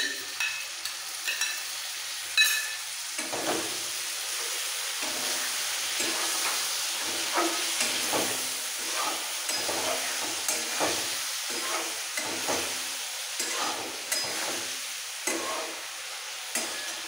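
Chicken with beaten sour yogurt and black pepper powder being sautéed in a pan for chicken polao biriyani, a steady close sizzle broken by repeated scraping stirs of the spoon, with no talking.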